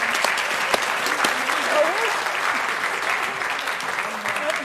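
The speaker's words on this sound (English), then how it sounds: "one more round of applause for all of our incoming class" Audience applause at a white coat ceremony for an incoming medical class, a steady dense clapping that fills the room and holds at an even level throughout.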